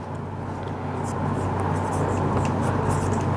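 Marker or chalk scratching steadily on a classroom board during a Hindi-language lesson on environmental conservation, a continuous close, even scraping texture with no pauses and no speech over it.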